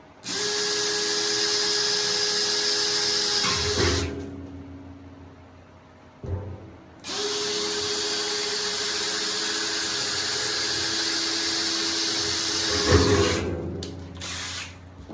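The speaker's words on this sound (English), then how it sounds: "Drill out my small holes." Power drill whirring steadily in two long bursts with a brief pause between, drilling small holes while installing a wood stove kit, close and loud, no talking.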